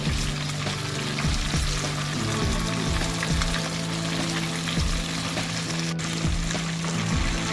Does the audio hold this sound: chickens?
no